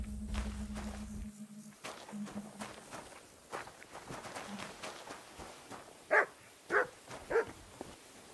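A dog in the video game Kingdom Come Deliverance II gives three sharp, close barks in quick succession, following soft footsteps and light movement sounds.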